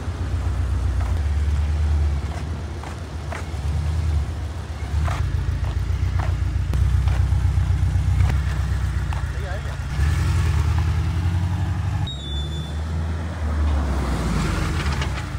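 A Porsche sports car drives slowly around a housing society, its engine a steady low rumble heard from inside the car with road and wind noise, while people talk over it throughout.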